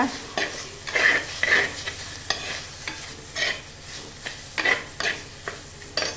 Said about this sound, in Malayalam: അത് കഴിഞ്ഞ് അതിലോട്ട് വൃത്തിയാക്കി വെച്ചിരിക്കുന്ന നൊത്തോലി ഇട്ട് കൊടുക്കുകയാണ്. അതൊന്ന് കിണ്ടുക.